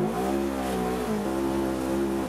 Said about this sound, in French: Il remonte dans une voiture et il refait un petit peu de rallye.